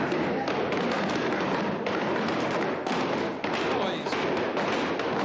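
Schoolboys pound on wooden classroom desks, a dense, continuous clatter of thuds and knocks filling a noisy room, with voices mixed into the din throughout.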